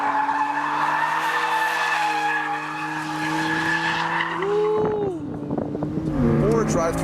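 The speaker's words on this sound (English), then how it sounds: "you can very much control the line of the car and do some pretty big smoky drifts" A 2015 BMW M3 drifts with loud, sustained tyre squeal over a revving engine, the skid pitch bending and wavering near the end.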